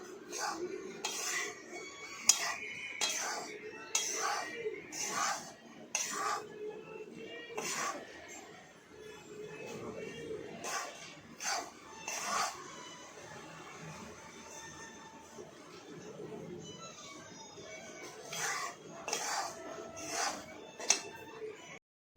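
Wheat flour being roasted in ghee in a pan for sukhadi, with repeated metal scraping and clinking of a spoon against the pan in an irregular rhythm, close by, while someone talks over it.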